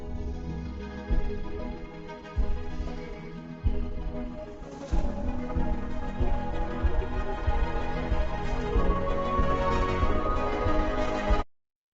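Loud, dense background music builds into its drop, with full bass and layered instruments surging from about one second in and staying intense until it cuts off abruptly near the end.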